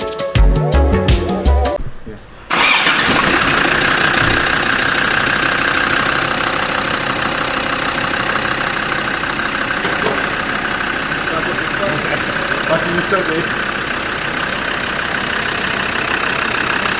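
A Land Rover Defender engine idles steadily after a brief burst of clattery starting noise and a short gap, a continuous mid-pitched rumble running on without pause.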